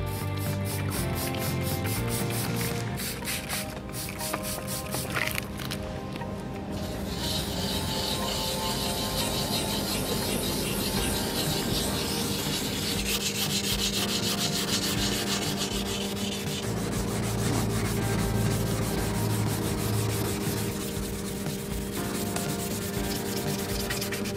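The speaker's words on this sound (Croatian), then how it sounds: "Far brusimo brusnim papirom okomito gore dolje, ne suviše jako stiskati, već lagano." Steady back-and-forth wet sanding of a car headlight with 600-grit sandpaper and water, a continuous rhythmic scratchy hiss that goes on for a long stretch without talk.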